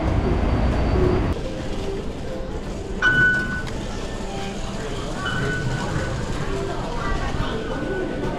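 A train in Taipei rumbles along with a steady low roar, a loud heavy passage at the start, then continued rolling noise with faint high squeals and whines, while people talk throughout.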